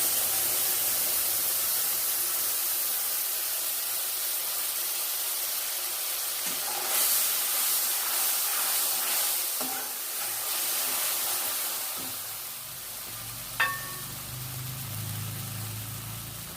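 Water poured into a hot pan while cooking mustard prawns sets off a steady, soft hiss and sizzle with faint clinks of utensils, heard alone without talk.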